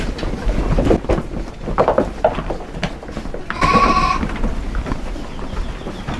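A sheep bleats once, loud and nearby, amid rustling and other farmyard activity outdoors.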